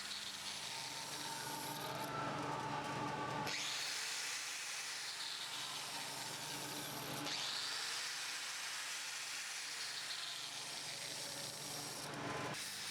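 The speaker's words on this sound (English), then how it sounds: "Here I'm starting the grinder and trying to hold the switch until my hand is in a comfortable position for grinding." A Bosch GWS 9-115 P angle grinder runs with a loud, dense whirring hiss that cuts out and restarts twice as the switch is released and pressed again, no speech.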